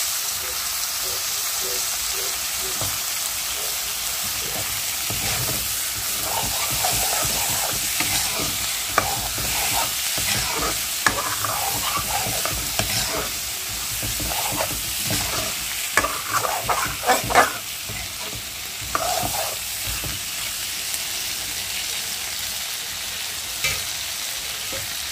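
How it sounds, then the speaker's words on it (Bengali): Hilsa fish frying alongside potato pieces in a pan, a continuous sizzle with intermittent spatula scrapes and clatter, close by, with faint talk in the background. "এখানে হলো আমি ইলিশ মাছ ভাজতেছি।"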